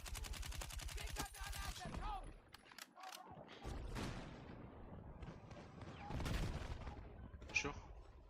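Rapid automatic gunfire in a Battlefield match, a fast burst of close shots at the start followed by scattered distant gunfire and mechanical clatter, with voices talking over the action.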